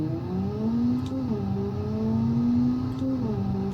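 Car engine in the driving game Automation revving hard and accelerating, a steady loud whine that climbs in pitch, dips briefly at a gear change and climbs again.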